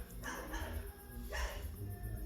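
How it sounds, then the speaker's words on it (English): A dog barks somewhere nearby in two separate bursts against steady low background noise, heard alongside a one-bladed all-metal first-generation Fanimation Enigma ceiling fan. "from one side we got a dog barking"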